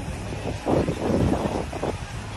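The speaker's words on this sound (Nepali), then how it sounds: "एकदम हावा लाग्यो है" Strong seaside wind roars and buffets the microphone in gusts, a low rushing noise with no voices.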